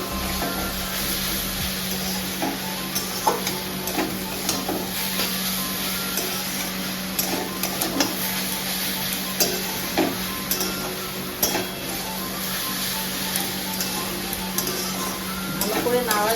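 Beetroot and carrot with turmeric being stirred and fried in a pan, giving a steady, continuous sizzle with light scraping and clicking from the stirring throughout.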